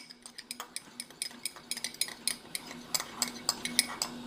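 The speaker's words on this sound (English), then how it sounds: "I'll combine and stir all these ingredients up here." Metal spoon clinks and scrapes repeatedly against a bowl while oregano and other rub ingredients for a pork loin are stirred together, a quick irregular run of bright taps close by with no talking.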